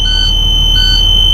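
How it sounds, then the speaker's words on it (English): A school bus emergency exit window buzzer sounds loud and close as a steady high electronic tone, pulsing twice over a constant low engine idle. "I will pull it shut and make sure that the buzzer sounds."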